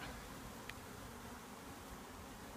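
A faint, even hum of bees buzzing around a hive continues steadily, with one brief tick partway through.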